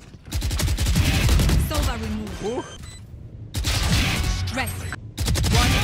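Dense automatic gunfire from Valorant weapons rattles in loud sustained bursts with short gaps between them, and a voice briefly speaks over the shooting.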